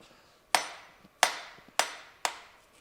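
Four sharp taps on a press brake part being seated into place on a 100-ton hydraulic press brake build, evenly spaced and fairly close, each a crisp strike with a quick decay.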